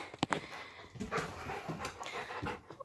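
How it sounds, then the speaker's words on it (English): A puppy panting in quick, uneven breaths with a few soft whimpers, close by inside an abandoned building, with scattered rustling between the breaths. "What is this pup up to?"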